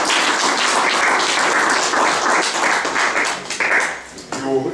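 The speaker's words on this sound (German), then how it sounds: "Applaus." Audience clapping at a gallery exhibition opening, dense and close, continuing for several seconds before thinning out, with a few voices emerging near the end.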